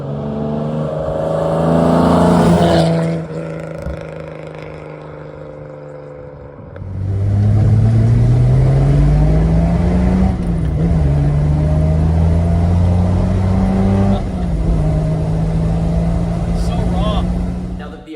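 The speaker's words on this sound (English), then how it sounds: "take a drive in this car" A car fitted with triple carburettors, headers and a full exhaust drones loudly while driving. The engine pulls through several rising gear runs, drops off briefly, then surges back with a climbing, revving tone.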